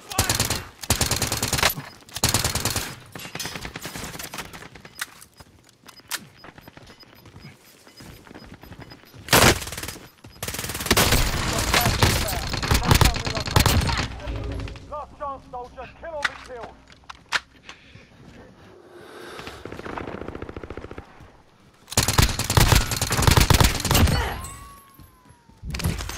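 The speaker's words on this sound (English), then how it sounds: "I'm taking fire." Gunfire in an online shooter video game, with bursts of rapid automatic shots and scattered single cracks coming and going over about half a minute, mixed with voices talking and other game sounds.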